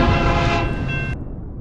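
A loud, close train horn sound effect blasts as a sustained chord for just over a second, then cuts off sharply, leaving a fading rumble.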